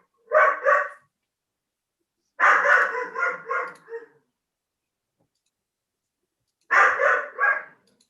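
Dog barking in three separate bursts of several quick barks each, with silent gaps between them. The barks are fairly close and loud, sound alone, and come through in the background of a village finance committee meeting held over a call.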